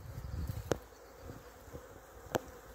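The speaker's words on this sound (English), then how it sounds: "bees swarming around that branch" A bee swarm gathering around a branch gives a faint, distant buzzing hum, broken by a couple of brief sharp clicks.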